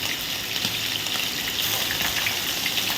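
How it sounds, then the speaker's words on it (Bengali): Prawns, unseasoned with salt or turmeric, are dropped into hot oil one by one, giving a loud, continuous close-up sizzle and crackle throughout, with no speech. "এই চিংড়িগুলো আমি এবার এই এক এক করে তেলের মধ্যে ছেড়ে দিচ্ছি"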